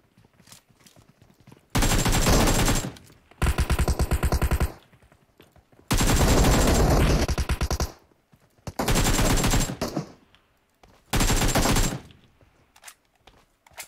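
Bursts of automatic gunfire from PUBG Mobile rattle out in five loud, sustained volleys separated by short quiet gaps, with faint in-game movement sounds between them.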